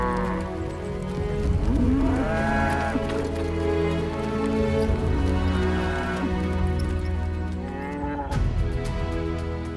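Cattle on a farm in the lower Derwent Valley low repeatedly with long, drawn-out moos, several overlapping calls close by in a loud, continuous farmyard chorus.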